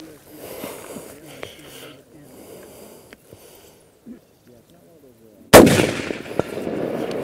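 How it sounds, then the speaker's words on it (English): A single sharp, loud rifle shot from a Riverman Gun Works modular breakdown takedown rifle, fired at a moving target, with the blast ringing out after a stretch of quiet background sound. "now we're going to shoot this in-motion targets, moving target"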